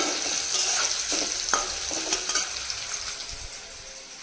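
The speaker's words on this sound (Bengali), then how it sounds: "এদিকে আলুটা ভাজা বসিয়ে দিয়েছি" Potatoes fry in a pan with a steady bright sizzle, broken by several scraping stirs and clinks of a utensil, close and moderately loud with no voices.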